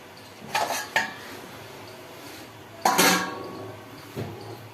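Potato curry with salt, sugar, turmeric and raw oil in a pot is stirred in a few separate bursts, spoon clattering and scraping against the metal with quiet pauses between, the loudest scrape near the middle.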